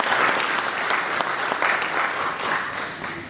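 An audience applauds at the launch of a bank's interbank payment system in Juba, a dense, steady burst of many hands clapping together at moderate distance, holding for a few seconds before easing slightly.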